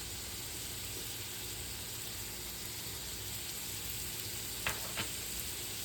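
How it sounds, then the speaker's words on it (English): Beef frying in a pan with turmeric, black pepper and salt as the mixture is stirred gives a steady, quiet sizzle throughout, with a couple of faint scrapes near the end. "Give everything a good stir so the flavors come together beautifully."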